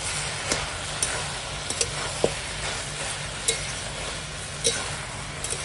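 A utensil stirs cooked cabbage in a pan, with a steady low sizzle running throughout and scattered light scrapes and clinks against the pan.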